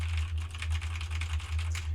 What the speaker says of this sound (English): This is me talking and typing at the same time.